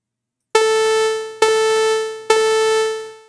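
Three sustained sawtooth-wave synthesizer notes generated with Tone.js, each a bright, buzzy, harmonic-rich tone struck at the same pitch, starting abruptly and fading slightly before the next, played alone and fairly loud.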